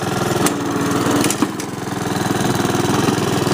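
A Honda HRX217 lawn mower engine runs steadily up close, a loud, continuous mid-pitched drone with a couple of brief clicks near the start.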